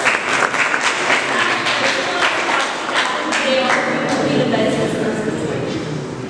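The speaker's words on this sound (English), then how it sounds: "applaud for yourself" Members at a Toastmasters meeting applaud themselves in a dense burst of clapping that holds steady for several seconds, close and fairly loud, with murmured voices mixed in.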